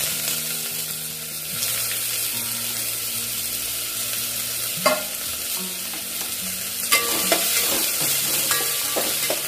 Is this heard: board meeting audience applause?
no